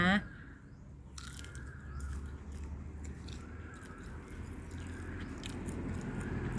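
Naem fermented pork wrapped in star gooseberry leaves is bitten close to the mic, a soft crunch followed by quiet chewing and faint scrapes, with a few brief voice sounds around it.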